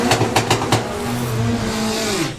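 A street car launches on a drag strip during a nine-second pass, its engine snapping through quick rising revs at the start, then settling into a loud, sustained roar that fades away at the end.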